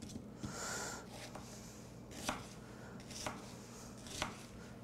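A sharp knife chops Vidalia onions on a board: a handful of crisp, evenly spaced thunks roughly a second apart, close and quiet, with soft rustling between strokes.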